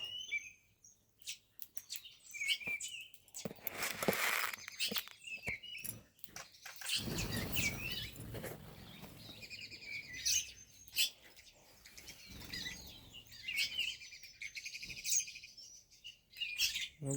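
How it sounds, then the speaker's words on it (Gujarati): Sparrows gather in numbers at a feeding spot, their high, quick chirps scattered across the clip, faint and somewhat distant, mixed with patter and rustling noises. "અહીંયા ચકલીઓ બહુ જ બધી હોય છે જ"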